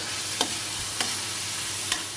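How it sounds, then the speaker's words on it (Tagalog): Pork frying in a pan with garlic and onion, a steady broad sizzle holding throughout with three sharp clinks of a utensil against the pan spaced evenly across the stretch, close by and no voices. "Luluto ko na pork."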